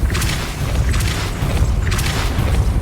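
Depulso spell cast in Hogwarts Legacy, a few loud booming thumps with bright whooshing bursts, repeating about every second amid mechanical rumble.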